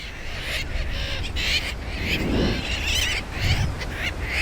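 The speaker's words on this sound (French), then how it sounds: "accueille des centaines de milliers d'oiseaux marins qui viennent se reproduire chaque année sur ses côtes" A large seabird colony breeding on a predator-free coast calls in a dense, continuous clamour of overlapping honking and squawking cries, loud and steady throughout with no voices.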